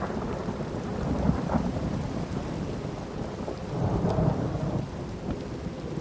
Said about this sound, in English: And it's kind of storming outside